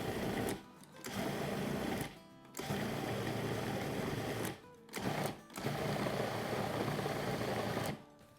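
A blender pulses a Peshawari ice cream mixture in short runs: close, steady motor whirring broken by a few brief pauses between bursts.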